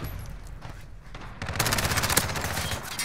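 Video game gunfire rattles off in a rapid, dense burst of shots that starts after a quieter stretch and keeps going to the end.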